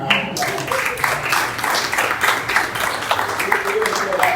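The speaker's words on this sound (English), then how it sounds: "Give her another round of applause." An audience at a groundbreaking ceremony for a city park-and-ride facility claps, a dense, steady patter of applause throughout, with voices mixed in among the crowd.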